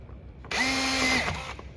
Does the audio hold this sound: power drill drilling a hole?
yes